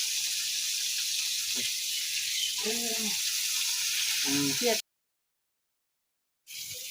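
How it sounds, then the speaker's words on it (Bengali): Nigella seeds, onion and garlic fry in hot oil with a steady bright sizzle, broken by a couple of brief scraping stirs before the sound cuts out abruptly for a moment. "পুরোনো কালি জিরা দিলাম পেঁয়াজ রসুন দিলাম"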